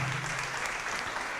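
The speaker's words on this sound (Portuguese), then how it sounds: "Vamos aplaudir." A church congregation applauding during a sermon, a brief, dense wash of many hands clapping at once, steady and close, with no clear voice over it.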